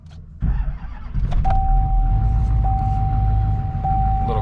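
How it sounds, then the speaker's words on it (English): A diesel truck engine, a Duramax LMM, cold-starts, cranking and firing up, settling into a loud, steady low idle rumble close by, with a faint whine over it. "Little cold start"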